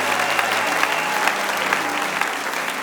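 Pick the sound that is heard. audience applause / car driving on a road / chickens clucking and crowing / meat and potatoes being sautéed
audience applause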